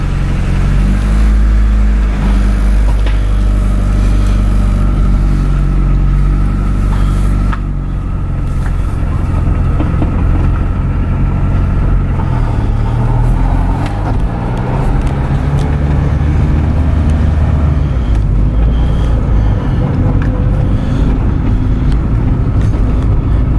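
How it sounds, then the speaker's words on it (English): A car fitted with a swapped D series transmission is driven on a test drive, its engine droning loudly at close range and rising and falling through gear changes, with road rumble heavy in the low end throughout. "now we're going to take it for a test drive"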